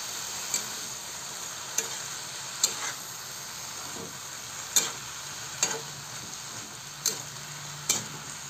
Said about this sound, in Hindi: अब इसको अच्छे से एक बार चला लेते हैं।